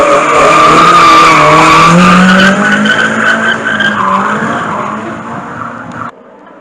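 Hill climb demonstration cars at the Bagnols-Sabran course de côte pulling away with loud, continuous tire skidding and engine roar, the screech sliding in pitch before cutting off abruptly near the end.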